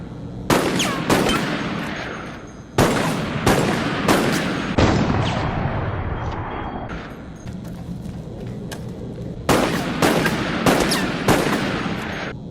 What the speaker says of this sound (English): let's test the semi-automatic rifle out